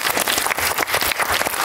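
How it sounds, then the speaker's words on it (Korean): Loud, dense clapping fills a cinema after a short film screening at the Jeonju International Film Festival, a steady patter of many hands with no break. "박수 쳐주셔도 됩니다"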